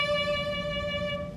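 A bowed violin note held steadily with quick, narrow vibrato, close and moderately loud, alone without any voices.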